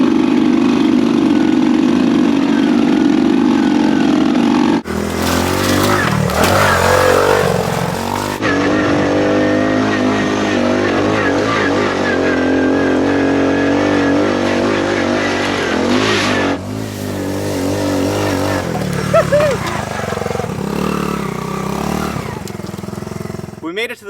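A Honda Trail 90 motorcycle that had sat abandoned for over ten years revs and strains as it rides over an obstacle, its small engine droning loud and close with shifting pitch and brief drops in throttle.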